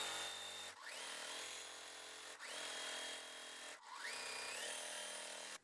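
A sewing machine stitches quilt pieces together, running in steady continuous bursts at close range with brief pauses between runs, and no talking.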